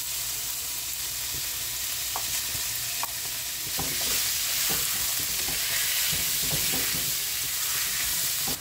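Ground pork frying in a pan for palabok: a steady, close sizzle runs throughout, with scraping stirring clicks scattered over it and no talk.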